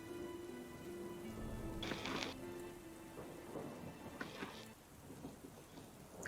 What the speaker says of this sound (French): réveillé par la pluie déjà qui commence à perler sur votre visage, mais aussi l'orage qui retentit encore plus fort